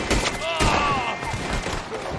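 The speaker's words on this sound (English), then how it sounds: "I see you shooting them from up above." Gunfire in the Red Dead Online video game during a co-op shootout against enemies on rooftops, several sharp close shots and booms in quick succession with ringing tails, mixed with voices talking.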